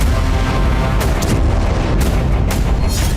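Explosions and blasts in Iran, heavy booming detonations heard as a dense loud rumble with about four sharp bursts spaced roughly half a second to a second apart.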